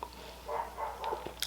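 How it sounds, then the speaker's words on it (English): Neighbor's dogs barking somewhere off in the distance, a few faint, muffled barks spaced irregularly, with a brief yip toward the end. "Sorry if you can hear my neighbor's dogs."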